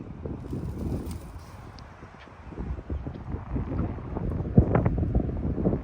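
Strong wind gusting across an outdoor disc golf course, a steady broadband rumble of wind buffeting the microphone that swells louder toward the end, with faint bird calls in the background.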